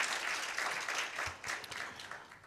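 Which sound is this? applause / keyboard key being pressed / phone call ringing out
applause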